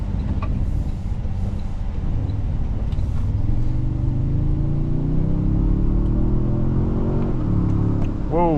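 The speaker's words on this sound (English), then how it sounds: "Engine has like a nice rumbly sound to it." A deep, steady engine rumble fills the cabin of a 2024 Toyota Sequoia TRD Pro SUV while driving, with the tone slowly rising as the vehicle accelerates.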